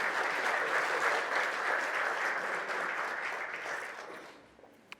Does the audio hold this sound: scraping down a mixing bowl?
no